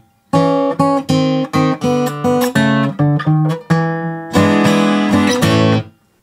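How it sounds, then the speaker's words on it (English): Blues guitar turnaround in A played in a lower neck position: a quick run of plucked notes and double stops in shuffle rhythm, finishing on strummed ringing chords, loud and close with no talk. "It's the same thing, but in a lower position on the neck."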